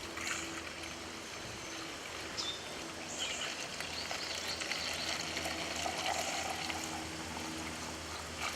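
Diluted seaweed fish fertilizer water being poured into plastic soda bottles in a garden: a soft, continuous trickle and gurgle of liquid, fairly faint, running steadily throughout with no talking.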